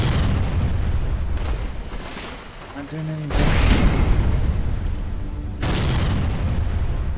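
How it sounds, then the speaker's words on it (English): Fixed gun explosions in Age of Empires 3, on a cliff above the Lake of the Moon: two heavy booms several seconds apart under continuous game battle noise, with a voice talking briefly between them. "They're doing 2k with that explosion"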